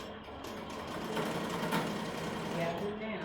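An embroidery sewing machine stitching an appliqué design runs steadily with a continuous rapid mechanical whir, close and moderately loud, while a person talks over it around a suspected thread break.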